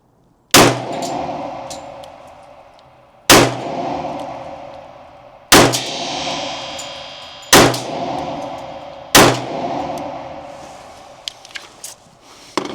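A 10mm Smith & Wesson M&P Carry Comp pistol fires five loud, close shots a couple of seconds apart, each sharp crack ringing with a metallic decay, followed by a few small clicks.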